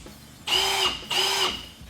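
A Milwaukee M18 Gen 3 cordless hammer drill driver whirs in two short bursts, each about half a second long, loud and close, with a brief pause between them.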